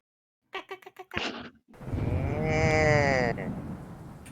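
A person imitates a cow with a long, drawn-out vocal moo, sliding in pitch and sustained for about two seconds, preceded by a few brief voiced sounds.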